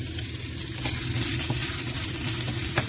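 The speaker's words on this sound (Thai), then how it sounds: "จะผัดเนื้อใส่เห็ดแต่มีเห็ดฟางด้วย" Beef stir-fried with straw mushrooms in a hot pan: a loud, dense, steady sizzle with faint tapping of the utensil, heard up close with no voices.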